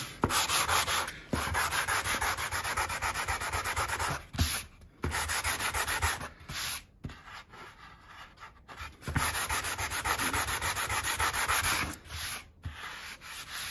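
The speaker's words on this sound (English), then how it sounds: "just flatten it off a bit with a, going with a 180 wet" Wet sanding a dinged windsurf board repair with 180-grit paper, a steady rasping rub in long close strokes with brief pauses between passes, no voices.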